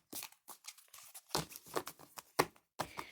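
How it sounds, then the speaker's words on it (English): An oracle card deck, the Mother Mary deck, being shuffled by hand: a quick run of dry papery riffles and slaps, close and moderately loud, in short uneven bursts with brief pauses between. "So I'm just going to quickly shuffle the Mother Mary deck."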